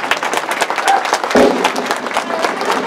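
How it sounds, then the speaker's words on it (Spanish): Loud crowd applause at a village festival honoring San Antonio de Padua in Mixquiahuala, dense clapping sustained throughout the short stretch with a brief burst of voices midway. "Un aplauso muy fuerte,"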